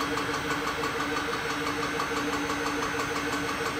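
Tormach lathe spindle running a warm-up program, giving a steady mechanical hum with faint tonal whine and a light rhythmic pulsing that holds at an even level throughout, with no talk.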